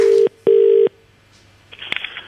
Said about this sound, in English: We're going to make a quick phone call.